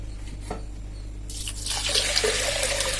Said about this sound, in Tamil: நாம இப்போ 4 டம்ளர் தண்ணி ஊற்றி வேக வைக்க போறோம்